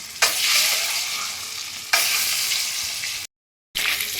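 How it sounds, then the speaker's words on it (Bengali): Loud, steady sizzle of duck eggs frying in hot oil, broken by a couple of abrupt cuts before the sizzling resumes. "এবারে আমি ডিমগুলো ভেজে তুলে নেব হালকা করে"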